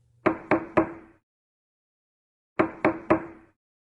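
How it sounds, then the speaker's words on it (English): Two sets of three firm knocks on a bedroom door, close and crisp, separated by a pause of silence. "A knock came on her door."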